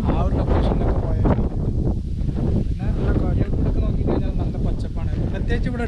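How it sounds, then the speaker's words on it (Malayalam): Strong wind buffets the microphone on a hill road in the Nilgiris near Gudalur during a bike ride, a loud, continuous roaring rush that stays heavy throughout with slight gusting swells. "കാറ്റ് ഒരേ ശീലം നല്ല കാറ്റാണ്."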